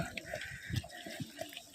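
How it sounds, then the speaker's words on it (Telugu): Water running across a rocky trekking path on the Harihar Fort trek near Nashik, Maharashtra, a faint, brief trickling splash heard close by with slight background murmur. "ఇలా వాటర్ రోడ్కి వస్తున్నాయి చూడండి."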